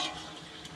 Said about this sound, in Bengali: দেখুন এইভাবে কিন্তু ভালোভাবে নেড়ে নেড়ে লাল লাল করে ভেজে নিতে হবে।